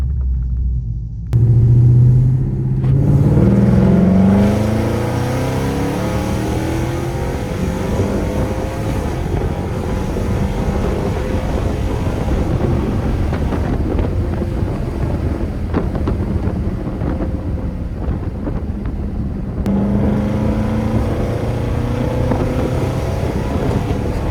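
A Hemi car accelerating hard through a gear pull with the windows down, a loud, deep engine rumble rising in pitch over the run, with heavy wind buffeting and a second surge near the end.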